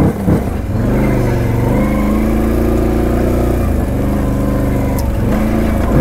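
A Can-Am Renegade 800 ATV engine runs close and loud, a steady droning mid-pitched note that rises and falls gently as the throttle shifts, with no talk over it.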